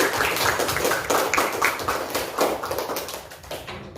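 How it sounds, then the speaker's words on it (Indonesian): A classroom breaks into applause, many hands clapping together in a close, lively burst that fades slightly toward the end, with no speech over it. "Tepuk tangan untuk semuanya."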